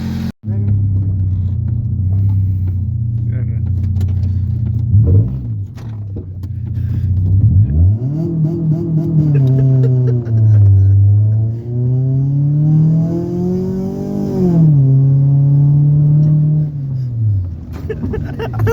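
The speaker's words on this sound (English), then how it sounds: "We're about to take this for a test drive now. About to test ride the Civic." A 2000 Honda Civic EM1 with a newly installed header driving on a test run, its loud engine drone rising and falling through repeated revs and gear changes, heard from close up inside the car.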